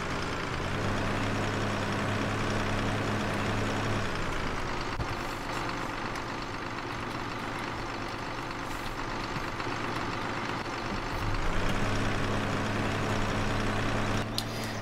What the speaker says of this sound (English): So yeah, this John Deere is a decent tractor.